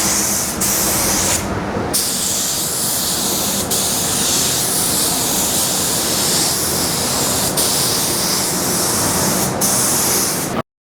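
A spray gun lays base coat paint across a Toyota Hilux body panel in a loud, steady hiss close by, broken by a few short pauses as the trigger releases, with no talking.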